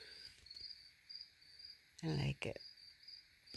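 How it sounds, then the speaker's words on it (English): Crickets chirp steadily in a high, thin trill on a summer night outdoors, fairly faint, while a person briefly speaks over them. "You guys hear the crickets? And the froggies?"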